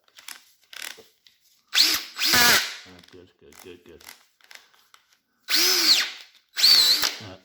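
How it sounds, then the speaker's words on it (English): A DeWalt DCD785 cordless drill with a new armature and brushes whirs forward and reverse in several short bursts, loud and close, with brief pauses and a few quiet words spoken between runs. "That drill is as good as new now."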